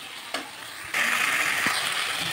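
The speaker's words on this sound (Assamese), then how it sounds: "এতিয়া চচখিনি দি অকণমান ভাজি ল'ম।" Sauce sizzling in a pan with chili chicken, a steady loud frying hiss that jumps up sharply partway through and keeps going, with a few clinks of stirring.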